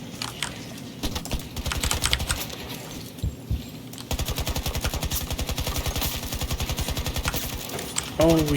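The Dead Space assault rifle firing in Battlefield 2042, rapid rhythmic automatic bursts, close and punchy, in a long steady stream after earlier scattered shots, with someone talking beneath the gunfire.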